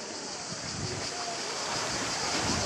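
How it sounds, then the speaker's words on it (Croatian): Large sea waves wash steadily at a beach, a broad continuous roar of surf mixed with wind buffeting the microphone, loud and close throughout without a break. "Ogromni su valovi, ljuljamo se."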